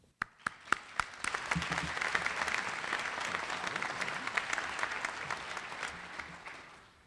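A graduation ceremony audience at Ohio State Newark welcomes a speaker with applause: a few isolated claps at first, then steady, full clapping from a large crowd that holds and slowly fades out.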